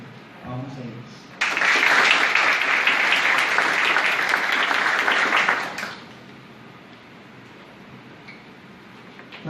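An audience claps steadily for about four seconds at an OAB public ceremony, then the applause fades into quiet room tone.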